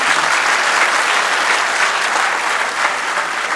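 Audience at a poetry gathering in Rawalpindi breaks into sustained, loud, dense applause close by, a steady wash of many hands clapping without pause throughout.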